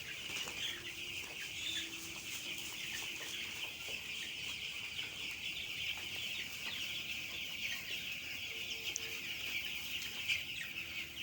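Broiler chickens cluck continuously on a poultry farm, a dense, steady flock chorus heard at moderate distance with no talking.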